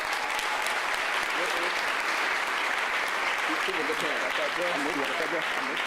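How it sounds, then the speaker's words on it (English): A crowd claps steadily and warmly throughout, a dense wash of applause from many hands, with a few voices faintly mixed in. "Can we give her a round of applause?"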